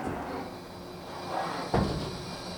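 Tool change on a Mori Seiki NH 5000 DCG four-axis horizontal machining center: a steady mechanical hum that swells briefly, then a sharp clunk near the end as the tool seats, with the machine running on after it.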